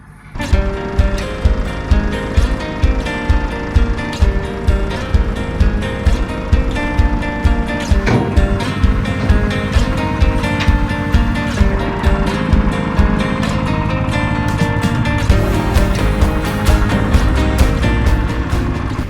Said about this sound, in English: This is Tasmania's only remaining cable-operated barge. Here comes the FatMan Barge.